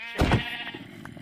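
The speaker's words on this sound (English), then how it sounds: "Okay, I found sheep." A single sheep bleats in a video game, a short, loud wavering cry that fades quickly into quiet game ambience.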